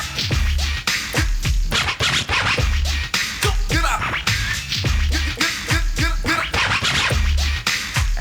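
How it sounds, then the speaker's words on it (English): The ribbon controller on a Yamaha DJX keyboard produces a turntable scratch effect, heard as rapid, loud back-and-forth scratches chopping rhythmically over a looping beat with punchy low thumps. "the ribbon controller here, that's basically a turntable effect"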